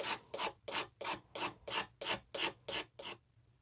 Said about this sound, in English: All right, I'll keep scraping